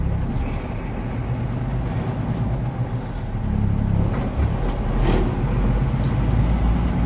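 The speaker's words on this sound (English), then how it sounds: "Yep, it's definitely a cottage traffic." Steady roar of vehicles in heavy cottage-country holiday traffic, heard from inside a big rig cab as a continuous low rumble, swelling slightly in the second half, with no talk.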